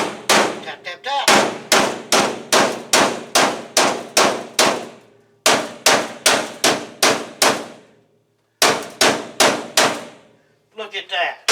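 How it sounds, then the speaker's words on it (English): A favorite hammer taps on the transmission cross member of a 1970 Mercury Cougar, sharp ringing metallic blows in quick runs of several strikes each, broken by short pauses, loud and close with no talk over them. "this is beginning to be my favorite hammer"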